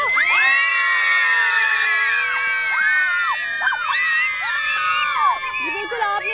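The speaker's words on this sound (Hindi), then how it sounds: "ये बच्चों का शोर बताएगा कि इनको कितना मजा आ रहा है" Children shout and scream at play in a park in Lahore, a loud, dense, continuous jumble of high excited voices close by, with overlapping shrieks and calls throughout.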